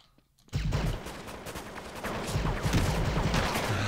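Sustained AK rifle spray in Counter-Strike: Classic Offensive, a loud close burst of rapid gunshots that kicks in abruptly after a short quiet lead-in and rattles on without pause.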